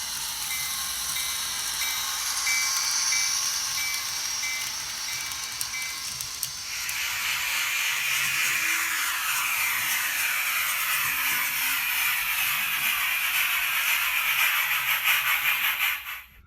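A Bachmann model steam locomotive runs with steady hissing steam and rhythmic mechanical rattling that changes character midway, continuing without voices until it cuts off.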